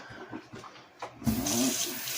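A household tap starts running partway through, a steady broadband rush of water into a sink for hand washing, fairly close and continuous after a quiet start with faint background clatter.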